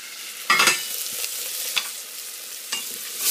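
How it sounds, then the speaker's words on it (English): Onions cook in a pan as the base for marinara sauce, a soft continuous sizzle broken by a few sharp stirring scrapes and clatters, with no one speaking. "you can see my onions are starting to cook"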